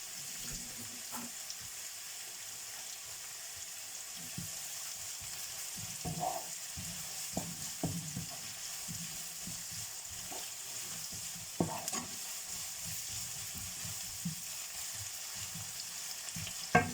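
Onions frying on a high flame for chicken biryani give a steady soft sizzle, broken by intermittent scraping and clinking as a utensil stirs the pan.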